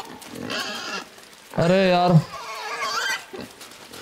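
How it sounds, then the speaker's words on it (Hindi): Grunting, squealing pig in a video game, a burst of harmonic animal calls around the middle of the clip, with someone talking excitedly before and after it. "अबे सुअर है क्या?"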